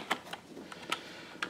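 Light, quick keystrokes on a computer keyboard tap out a short command, a few clicks scattered across a quiet moment, close and clear.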